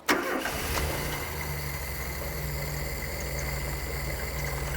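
An old carbureted Ford hot hatch engine, left outdoors for 25 years, cranks and catches, then settles into a steady, continuous idle close by that holds evenly.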